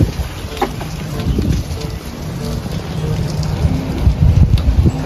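Melting snow chunks fall from rooftops around a town in spring, dripping and pattering like rain in a loose, uneven wash with a few louder splats, fairly close and building toward the end.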